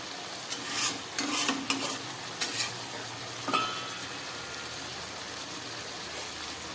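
Chicken curry bubbles at a boil in a pan with a constant sizzling hiss, broken early on by a few louder scrapes and clatters of a utensil, then settling into an even, close simmer.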